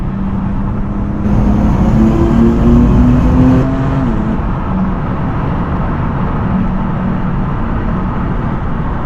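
BMW M4 CS engine accelerating hard, a loud rising engine note heard from the cabin, climbing in pitch for a few seconds before easing off into a steady drone with no talk.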